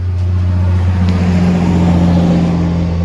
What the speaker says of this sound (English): We got the door open, traffic's loud